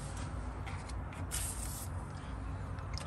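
PB Blaster penetrating oil sprayed from an aerosol can onto fender bolts and seams of a 1974-78 Ford Mustang II, a continuous close hiss with a louder burst in the middle.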